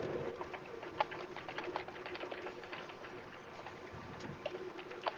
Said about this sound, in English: no, that's me typing.